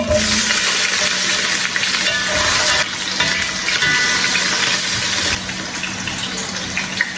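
Onion dropped into a hot pan for spaghetti sauce, giving a loud, steady, broad sizzle that hisses continuously throughout, close up and with no one talking.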